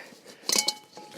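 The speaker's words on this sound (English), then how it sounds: "I have a wok." A metal wok is handled among camping gear on a winter bikepacking trip, giving a short close metallic clink with a couple of ringing knocks, alone without talk.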